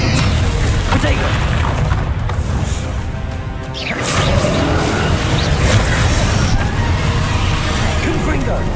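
Spell explosions such as Confringo and Bombarda in Hogwarts Legacy, loud booming blasts and whooshes layered over continuous game noise, with a voice talking throughout.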